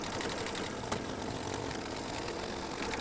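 A sewing machine stitches a football mug rug, producing a steady, continuous mechanical whir with a fine rapid rhythm that holds at an even level throughout.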